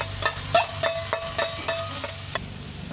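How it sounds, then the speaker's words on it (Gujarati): Corn kernels tipped into a sizzling, salted paste in a pan, a dense close hiss with a rapid run of stirring scrapes and taps, no voices. "હવે એમાં આપણે મકાઈ નાખીશું।"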